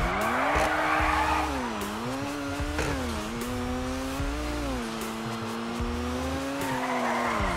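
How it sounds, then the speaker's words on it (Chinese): A Koenigsegg One:1 drifts in GTA5 with loud sustained tire squeal over a wavering engine whine. The skid runs steadily throughout at close range. "直接甩尾了"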